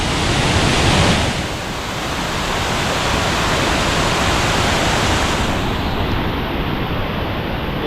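River water rushing beneath a bridge, a loud, continuous broadband roar with steady wind-like noise and no pauses throughout.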